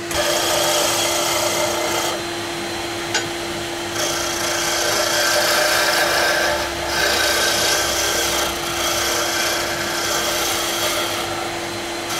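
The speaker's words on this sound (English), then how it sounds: "you go along and use a finer and finer sandpaper" A wooden pen turning on a lathe is sanded with sandpaper, giving a steady, close rasping rub over a constant motor hum, with a few short pauses and no talk.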